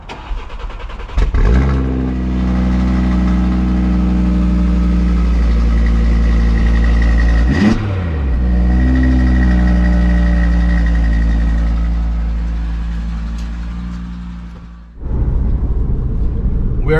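A stock 2019 Audi RS3 engine runs loud and close, holding a steady deep idle drone with a brief blip near the middle and a cut-off then restart toward the end.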